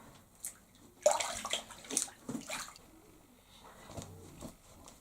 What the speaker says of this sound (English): So I'm going to rinse this off now.